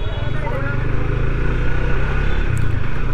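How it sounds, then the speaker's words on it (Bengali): Motorcycles ride through a crowded street on Eid in Kasba, their engines making a steady low drone that runs the whole time beneath the busy crowd noise. "সব বাইক নিয়ে বেরিয়েছে।"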